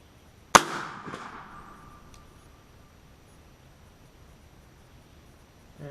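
A single sharp, loud crack from an AF Texan .460 air rifle fired at a target 100 yards away outdoors. A brief ringing tail follows, then quiet with no voices.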